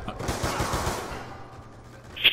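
Gunfire from a weapon in Call of Duty Black Ops 2: a quick burst of several sharp shots in the first second, then a fading tail and a brief bright high-pitched ping near the end.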